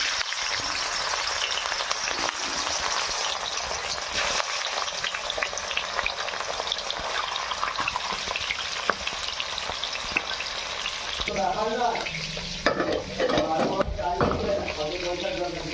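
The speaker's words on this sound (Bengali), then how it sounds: "আমার কড়া গরম হয়ে গেছে, এবার দিয়ে দেবো মাছগুলো।" Rohu fish pieces frying in hot mustard oil in a wok, a steady loud sizzle and crackle throughout, with a clattering stir and a brief voice near the end.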